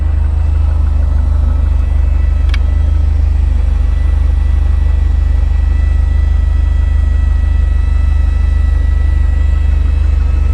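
A failing fuel pump in a PT Cruiser gives a steady, loud low-pitched hum and drone from beneath the car, continuous and unchanging, with a faint higher whine above it.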